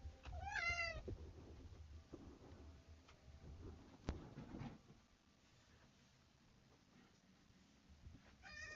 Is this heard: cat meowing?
yes